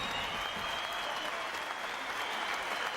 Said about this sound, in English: a round of applause for 2 boxers who gave their all